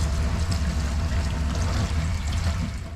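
Water gushes steadily from a tap in a train washroom on Kazakhstan's high-speed train, a continuous, close rush that begins to ease off at the very end.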